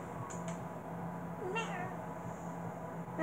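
A cat meows a few short times in the background of Cluster Truck gameplay, faint and brief over a steady game hum.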